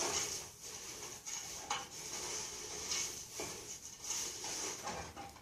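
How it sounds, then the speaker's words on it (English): Cookies and creme Rice Krispies mixture is stirred slowly in a pot, giving soft rubbing and scraping with occasional light clinks, close and fairly quiet. "we're going to mix in our mixture very slowly and stir"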